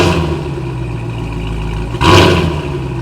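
A deep, throaty Cadillac Blackwing exhaust rumbles steadily, then swells louder and rougher for a moment near the end as an exhaust baffle opens, before settling back.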